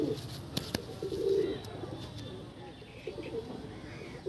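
Delhi pigeons in a loft coo softly and repeatedly, with a few faint chirps, close by against a low room murmur.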